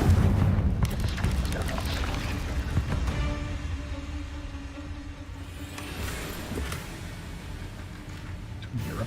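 A Confringo blasting curse exploding in Hogwarts Legacy: a loud booming blast at the start followed by rumbling, crackling game combat noise that keeps going steadily, with a few sharper impacts.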